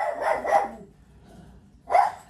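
A dog barks twice in quick succession near the mic, then once more after a short pause, loud and clear with no talking over it.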